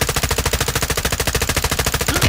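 Rapid, sustained automatic gunfire from Call of Duty Modern Warfare 2, a loud, steady burst of evenly spaced shots filling the whole moment with no pauses.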